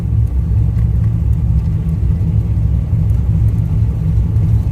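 An LS-swapped third-generation Camaro idles with a steady, loud low rumble of engine and exhaust, close by and unbroken with no voices.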